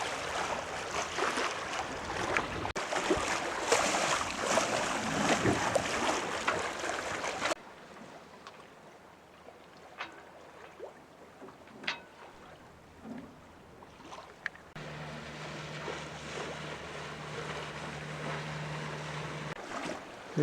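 A Jeanneau sailboat runs downwind up the Sound of Ling, with wind rushing and water washing along the hull, gusty and loud at first, then quieter hull swash and a low steady hum later.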